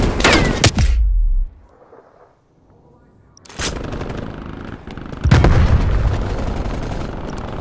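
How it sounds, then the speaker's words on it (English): Grenade blasts and gunfire in Call of Duty: Black Ops Cold War, a loud booming burst, a near-silent gap, then two more heavy explosions followed by rumbling, crackling combat noise. "Throwing grenade."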